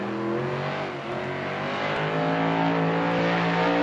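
The Mayhem monster truck's engine roars at a Monster Jam stadium show in Atlanta, a loud sustained drone with strong harmonic growl that swells slightly toward the end, heard from a distance across the arena.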